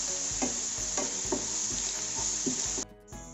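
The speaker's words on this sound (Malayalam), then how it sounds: "ഇനി നമുക്ക് ഇഞ്ചിയും വെളുത്തുള്ളിയും ചതച്ചിട്ട് കൊടുക്കാം. നന്നായി ഒന്ന് പച്ചമണം മാറുന്ന വരെ വഴറ്റി കൊടുക്കുക." Crushed ginger and garlic sautéing in a pan for a Kerala-style spicy beef fry: a continuous close sizzle marked by regular stirring scrapes roughly every half second, cutting out abruptly near the end.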